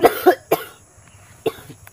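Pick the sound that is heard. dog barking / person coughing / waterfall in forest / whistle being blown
person coughing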